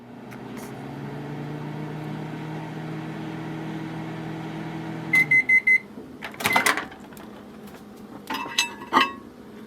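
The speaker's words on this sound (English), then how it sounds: "you're gonna put it in the microwave for 30 seconds" A microwave oven hums steadily while heating food, then stops with three quick beeps, followed by the door clunking open and dishes clinking close by.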